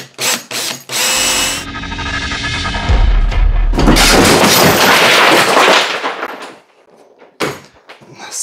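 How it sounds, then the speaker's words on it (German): A power drill bores holes into a wooden workbench in a workshop, with loud sustained whirring and grinding bursts over several seconds, broken by sharp knocks and clatter toward the end. "Und da bohre ich jetzt erstmal Löcher rein, drei Stück."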